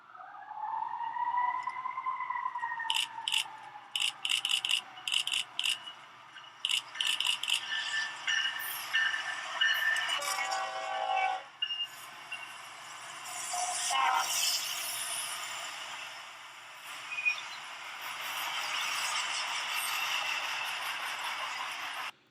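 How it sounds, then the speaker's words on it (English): A BNSF freight train rolls past nearby with steady rattling and metallic clinks, wheels clattering in bursts over a continuous rumble, no talking. "BNSF Q-ATGLAC coming right in."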